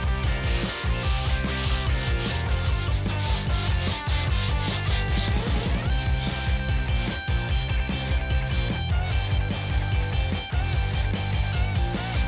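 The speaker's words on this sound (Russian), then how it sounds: "нужно убрать крупную ворсу с помощью наждачки" Sandpaper scrubs the rough, porous surface of a large mold for a giant gummy Coca-Cola bottle, producing continuous close, rhythmic scraping strokes with no voices.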